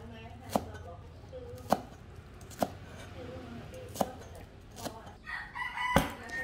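A knife chops green onions sharply on a cutting board, five or six spaced strokes at a slow, even pace, with a rooster crowing faintly in the background.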